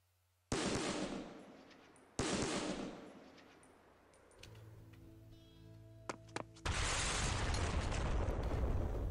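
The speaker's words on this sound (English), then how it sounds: "they're now hearing AK's fire" AK rifles fire in Black Powder Red Earth, several loud, sharp reports, each decaying into a rolling echo, with a short run of clicks and a final sustained blast.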